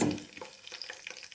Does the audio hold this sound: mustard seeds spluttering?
yes